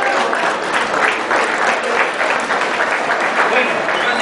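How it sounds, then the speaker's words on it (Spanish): Loud, steady audience applause at a seaside fishermen's festival celebration, a dense crowd clapping continuously throughout with no pauses. "Y ya que estamos en aplauso, les pido un aplauso grande para mi señora."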